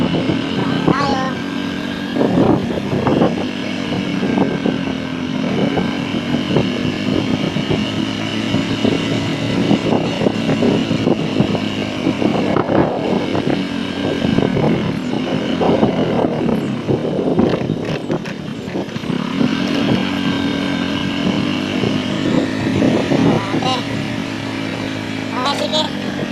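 A motorcycle rides along toward a farm, its engine droning steadily and loudly throughout with shifting revs, wind rumble and occasional voices over it.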